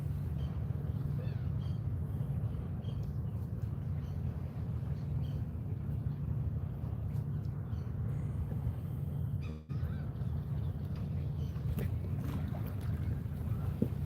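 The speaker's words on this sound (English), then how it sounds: "This is definitely a west wind that's blowing." West wind blowing across open lake water from the shore, a steady low rushing roar with buffeting against the microphone, continuous and loud throughout with one brief dip near the end.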